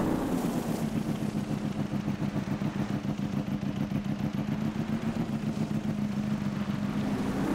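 An Aprilia motorcycle engine in Farming Simulator 22 drones steadily at high revs, a continuous buzzing tone holding at top speed near 180 without pause.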